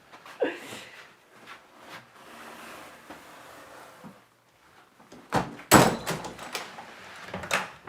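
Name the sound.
old manor house door to cellar opening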